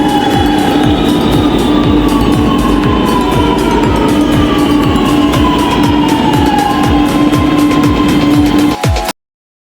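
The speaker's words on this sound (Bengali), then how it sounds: "লাস্টে চলে নেওয়া হচ্ছে লখনৌ মেট্রো" A Lucknow metro train runs at speed, a loud steady rumble with a rhythmic clatter of wheels over rail joints and a sustained high whine, cutting off abruptly near the end.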